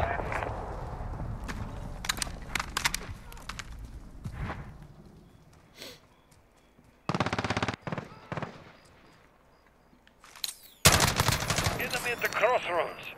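G36 rifle gunfire in Call of Duty Modern Warfare during a night operation: sharp bursts of rapid automatic shots, loud and close, separated by quieter gaps, with voices talking between volleys.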